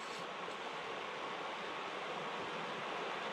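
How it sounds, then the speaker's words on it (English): A quiet solar-powered water pump hums along steadily, making a soft, even hiss that stays constant and faint throughout with no other sounds. "So the pump is running now. You can hear it's really quiet."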